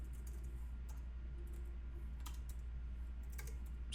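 Quick, irregular tapping of laptop keys, light clicks in short bursts over a faint steady hum, close by and fairly quiet.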